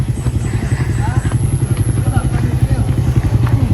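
Motorcycles running on a farm dirt road in hilly country give a steady, close, rumbling engine idle with a pulsing low throb and light clatter throughout.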